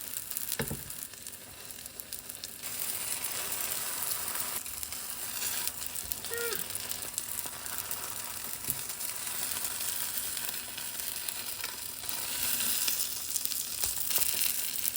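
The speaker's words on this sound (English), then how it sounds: "we'll let it fry for longer" Food fries and sizzles steadily in a hot pan in a kitchen making Chinese dishes, a continuous crackling hiss with a few faint clinks, close and fairly quiet throughout.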